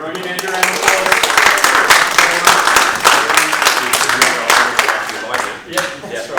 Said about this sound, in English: Everyone give Andrew a round of applause.